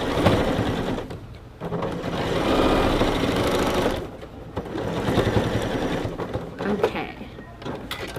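Sewing machine stitching a drawstring backpack, running forward and backstitching in continuous motorized whirring bursts with brief pauses near 1 and 4 seconds, fairly close.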